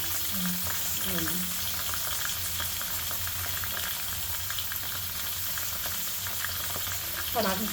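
Green chillies and curry leaves frying in a pan for a masala bitter gourd curry, giving a steady close sizzle with light stirring scrapes throughout, while a voice speaks faintly at the start and end.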